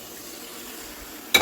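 Ham slices frying in a skillet give a steady, close sizzle that ends in a sudden louder burst of crackle.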